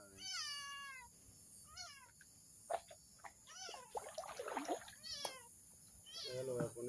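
A small kitten meows repeatedly at a run-down, neglected home, each call a rising and falling cry, with crickets and other insects chirring steadily behind it and brief bursts of nearby human voices.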